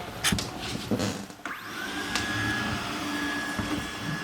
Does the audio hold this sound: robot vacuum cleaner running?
yes